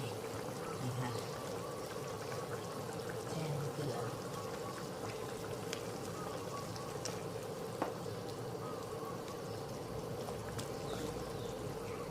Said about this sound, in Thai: ใส่น้ำเกลือลงไป